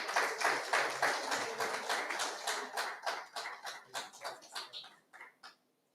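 Audience applause at an academic award ceremony, a fairly faint burst of many hands clapping that thins into scattered claps and fades out over several seconds.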